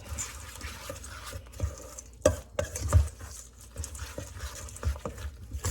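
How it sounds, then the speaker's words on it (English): Oregano is stirred into a cracker mix for meatloaf, making irregular close scraping and light clinking against the bowl. There are uneven bursts and pauses, and no voices. "throw this, oregano into my cracker mix. Stir that up."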